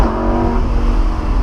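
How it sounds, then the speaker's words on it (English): A Lamborghini Huracan Spyder's exhaust roars steadily with a deep rumble and reverberant, echoey tail, bouncing off nearby rocks. "that sounds good as the exhaust bounces off the rocks"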